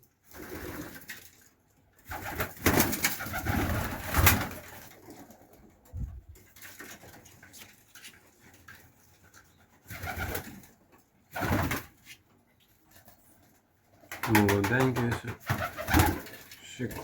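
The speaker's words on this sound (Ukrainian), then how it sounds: "Пакистанські голуби." Pakistani pigeons coo in soft repeated bursts close by, with short gaps of quiet and a brief flutter-like rustle near the end as they are released.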